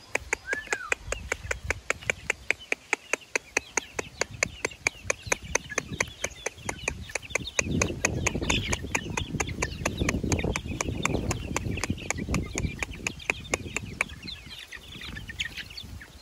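One-month-old gamefowl chicks, McLean and Sweater breeds, cluck and peep together on a farm as a steady dense chorus, with a fast, regular train of sharp clicks running through it.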